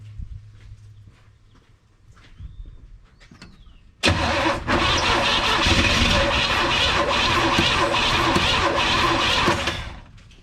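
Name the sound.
1962 Chevrolet C10 truck engine cranking on weak battery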